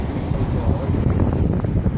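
Wind buffets the microphone on an Icelandic coastline, a loud, steady rumbling roar with gusty fluctuations throughout and no voices.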